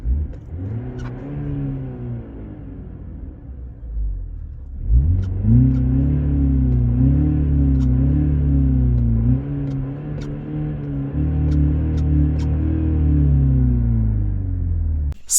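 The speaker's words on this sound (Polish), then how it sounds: "producent zamontował syntezator dźwięków" Synthesized engine sound of a MINI Cooper S F66 played through the car's speakers, a steady mid-range drone that swells as the car accelerates, lasting throughout with no talking.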